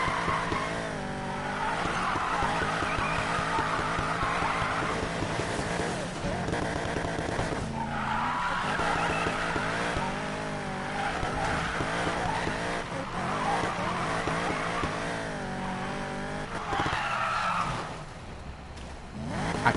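Car tires squeal and skid through a spin in Need for Speed Payback, a loud continuous screech over a revving engine that lasts throughout.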